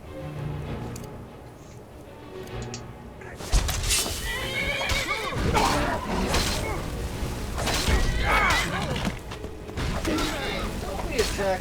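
A horse in the video game Skyrim neighs loudly and its hooves clop, while combat clatter and thuds fill the scene and a voice talks over parts of it.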